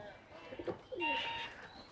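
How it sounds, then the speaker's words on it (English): Pigeons cooing beside a canal at a quiet floating market in Bangkok, a few soft rolling calls close by with faint voices and outdoor murmur around them. "I can see some pigeons."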